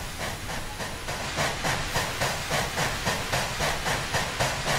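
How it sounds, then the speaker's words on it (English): Modded steam locomotive chuffing in the Railworks train simulator game, with an Amtrak P32 helper at the tail of the train: steady, rhythmic hissing chuffs that pulse evenly throughout, close and fairly loud, with no talk. "So the audio you're hearing of the chuffing is modded, so we do have some modded chuffing"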